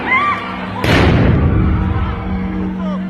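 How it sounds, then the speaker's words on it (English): A single heavy, booming blast as Israeli police fire a stun grenade at Muslim worshippers in the Al-Aqsa Mosque compound, rising over a crowded, shouting scene with voices before and after. "Israeli police fire stun grenades to disperse Muslim worshippers"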